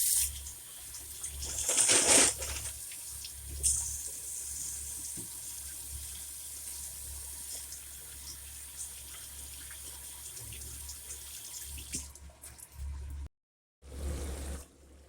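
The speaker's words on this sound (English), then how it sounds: "let me wash my hands real quick" Hands are washed under a running kitchen tap, a soft close water flow with louder splashes near the start, then quieter trickling, followed by a brief dropout near the end.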